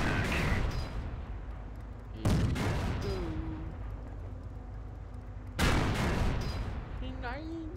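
Tank battle in the video game Company of Heroes, with two heavy booming cannon blasts several seconds apart over a rumbling battlefield background, and voices speaking between the shots.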